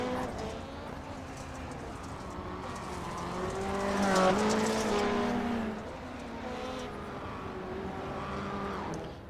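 Rallycross race cars in the iRacing sim roar steadily, their engine pitch rising and falling through gear changes. The sound swells to a louder pass midway, then settles back to a continuous drone.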